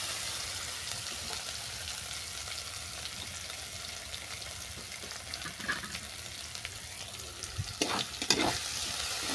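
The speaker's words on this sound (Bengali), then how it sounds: "দিয়ে দিচ্ছি কাঁচা লঙ্কা আর পোস্ত বাটা। এটাকে আমি কষিয়ে নিচ্ছি।" Green chilli and poppy seed paste frying in a pan, a steady close sizzle with occasional stirring scrapes and clatter that grow busier toward the end.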